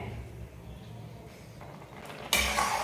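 A spoon scrapes and clinks against a metal pot of milk, then a louder hiss of bubbling boiling milk rises near the end.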